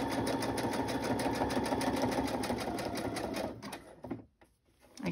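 A sewing machine runs in a steady, loud whir of rapid stitching while decorating paper ephemera, then slows and stops near the end, leaving brief quiet before a small bump of sound.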